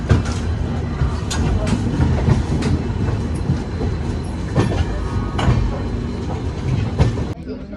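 A 12073 Jan Shatabdi Express train on the Howrah to Bhubaneswar run rolls along steadily, its loud, continuous rumble broken by recurring wheel clicks and clacks that stay close throughout.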